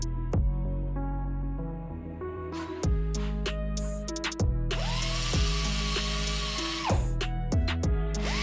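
Power tool grinding bare metal on the hood of a Mustang during a cheap BMW chassis swap build, running in several bursts that rise and cut off with high whining sweeps, loud and close with no talk.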